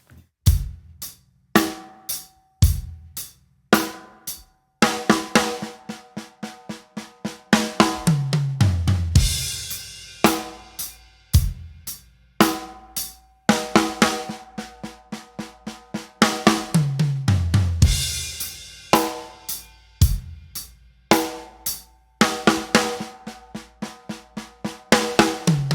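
Drum kit playing a run of rapid 16th-note accent fills, sharp hits in quick bursts with occasional crashing cymbal swells, loud and close with no talking.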